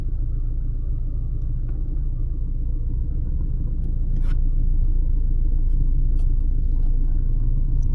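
Cars idling and creeping along in a traffic jam on Fields Avenue in Angeles City, a constant low rumble of engines close by, with faint brief clicks and a slight rise in level midway.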